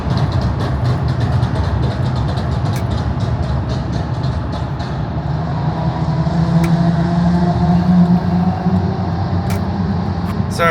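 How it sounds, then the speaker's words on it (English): A car with a loud aftermarket exhaust drives by on a street, a rumbling, growling roar that builds and holds, heard up close and prominent with no talking. "cars that sound like that when they have the loud ass exhausts"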